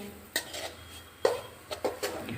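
A spoon scrapes and knocks against a pan while chana gram flour roasts on a slow flame for a sweet. A few distinct clinks and scrapes sit among quieter stirring, close and clear, with no talking.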